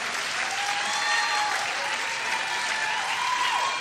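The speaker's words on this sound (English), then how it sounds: "Give a round of applause to the candidates." An audience claps for the candidates at a county district attorney debate, a steady full round of applause throughout, with a faint tone running through it.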